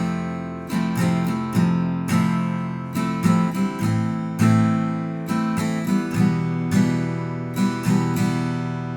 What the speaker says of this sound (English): So the most basic way of playing this, and again you can use this throughout the whole song if you wanted to, sounds like this.